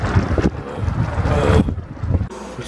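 Wind blows hard outdoors against the microphone, a steady rough roar with gusty surges, loud and close, heard on the walk home with no talking.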